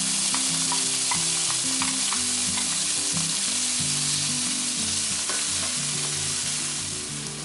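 Half a red and half a green bell pepper fry in a splash of oil in a pan, giving a loud, steady close sizzle with faint stirring scrapes that fades slightly at the end.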